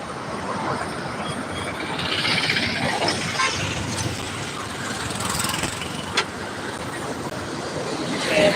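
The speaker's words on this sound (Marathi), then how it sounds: "गाड्या खूप चालू आहेत आता मला रोड क्रॉस करायचा आहे त्या साईडला" Road traffic flows past a roadside, a continuous rumble of engines and tyres from many passing vehicles, rising and falling as they go by, with one sharp knock and no voices.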